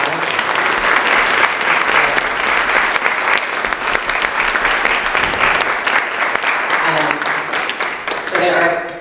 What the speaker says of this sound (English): Can we give these writers another round of applause?